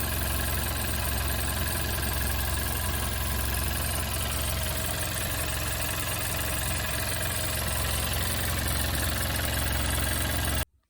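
A Volkswagen Golf V 1.4 TSI engine idles steadily and evenly at close range after a timing chain replacement, a constant mechanical hum with a fine rhythmic clatter that stops abruptly at the end.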